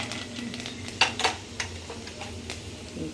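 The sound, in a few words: tempering mustard seeds and lentils frying in hot oil in kadai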